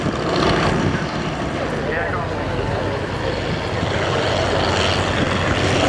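Three SE5 vintage biplane fighters fly in formation at an air show, their propeller engines droning loudly and steadily overhead, with a faint Doppler sweep as they pass.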